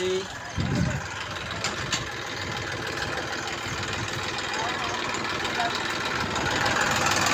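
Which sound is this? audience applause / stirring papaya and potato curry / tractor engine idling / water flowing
tractor engine idling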